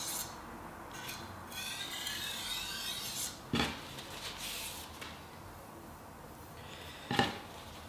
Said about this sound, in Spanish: Quitamos la rebaba.